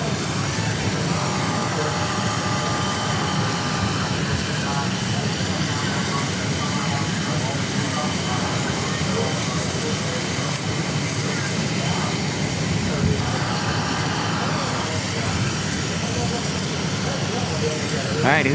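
Aircraft at Dallas Love Field, a steady broad engine roar from planes that holds throughout, with people talking over it.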